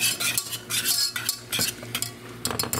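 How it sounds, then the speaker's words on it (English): Ingredients whisked in a bowl before sautéing onions for a turkey pot pie, quick rhythmic bursts of scraping and clinking against the bowl, close and fairly loud, with brief pauses. "we're going to whisk this up so we can saute and cook up these onions"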